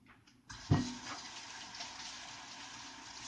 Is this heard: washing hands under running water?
yes